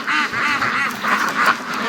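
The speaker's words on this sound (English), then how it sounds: "There's marble duck, or leopard duck, whatever you want to call it." Marbled ducks quacking at close range, a rapid series of about six nasal, raspy calls in quick succession, loud and without talk over them.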